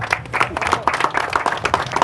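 Ceremony audience applauding at an award presentation, a short burst of brisk, distinct hand claps from a nearby crowd.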